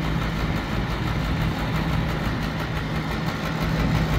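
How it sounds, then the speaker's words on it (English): An old Lennox air conditioner compressor running outdoors, a steady low droning hum with a faint buzzing tone, unchanging and continuous throughout. "Okay, so the compressor is working now."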